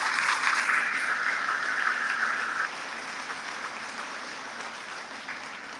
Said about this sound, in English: So applause to them